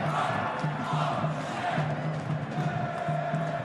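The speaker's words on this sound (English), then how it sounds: "You can hear the energy from the crowd, the atmosphere at HBF Park" A football crowd at HBF Park in Perth, during an A-League match between Perth Glory and Macarthur FC, keeps up a steady, dense roar with rhythmic chanting pulses and no break.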